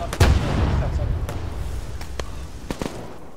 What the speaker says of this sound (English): We're taking RPGs now